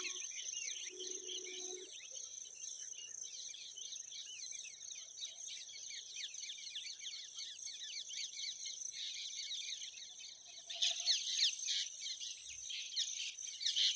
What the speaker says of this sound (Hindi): आप यहाँ पक्षियों की आवाज़ सुन सकते हैं।